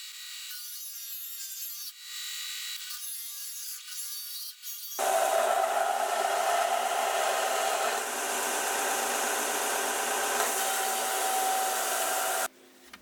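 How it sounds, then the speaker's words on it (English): Belt grinder grinding a carbon steel knife blank, a loud steady abrasive hiss that starts after a few seconds of quieter rubbing and scraping, holds for about seven seconds with a faint whine, then cuts off. "the belt grinder, I'm going to do my best to grind the blank down to the shape that I'm going for"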